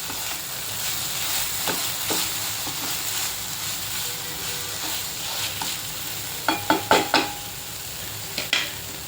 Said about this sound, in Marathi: मसाला आता चांगला परतला गेलाय।